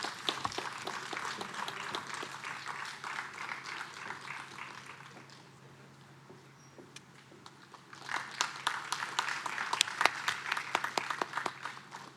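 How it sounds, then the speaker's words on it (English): An audience at a workforce skills event applauds, steady clapping that dips briefly and then swells louder again, with faint talk mixed in. "Please give a huge round of applause for Mr."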